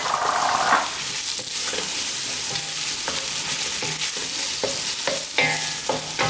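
Onions sizzle steadily as they fry in a hot pan for a squash biryani, with repeated scraping and clatter of a utensil stirring them throughout, close and fairly loud without any voices.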